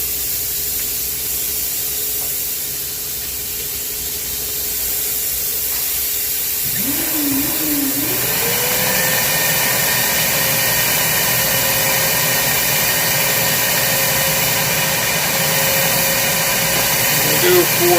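Walnut media blasting inside a BMW N54 engine on a 135i, with a vacuum pulling the spent shell away: a steady, loud broadband hiss that swells partway through and then holds, joined by a rising whine that settles into a constant tone.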